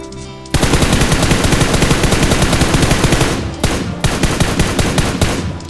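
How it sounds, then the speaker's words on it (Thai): Loud automatic gunfire in the mobile battle royale game PUBG Mobile, a dense rapid burst running for several seconds, briefly breaking off and then resuming close up. "เรายิงคนนะ"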